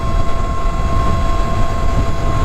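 An E-Ride Pro S electric motorbike runs at full throttle, with a loud steady rush of wind and road noise and a thin constant motor whine underneath, no voices present.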